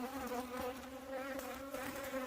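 Asian honey bees swarming around a hive sick with sacbrood disease, a dense continuous droning buzz close by, steady and alone throughout.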